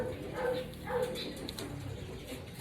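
Racing stock pigeons coo in a loft, soft rounded rolling calls repeating a few times close by, with faint background bustle and no talk.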